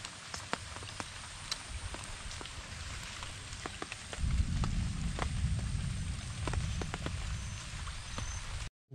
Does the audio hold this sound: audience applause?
no